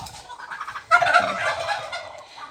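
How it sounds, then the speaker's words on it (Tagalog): Several turkeys gobble in bursts of warbling, rattling calls, quieter at first and then louder and fuller for the rest, with no talking. "Ang daming turkey dito, diba?"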